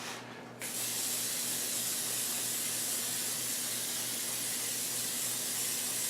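Aerosol water-repellent spray hisses steadily onto a backpack, a close, loud, continuous jet that begins after a brief pause and runs unbroken to the end.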